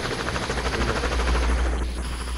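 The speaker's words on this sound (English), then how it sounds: "Get on the helicopter if you're injured." A helicopter in a military shooter video game gives a steady, loud rotor thrum with rapid chopping pulses, continuous and close throughout, with no one speaking over it.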